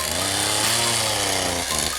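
Loud, steady whine of a power saw biting into a standing tree, cut at about hip height more than halfway through the trunk for a hinge felling, continuous and close throughout with no talk.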